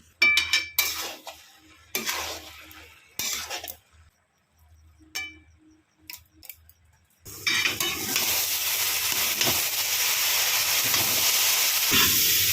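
Spices and peas for ghugni are stirred and fried in a pan: scattered spoon scrapes and clanks at first, then a steady loud sizzle that continues to the end.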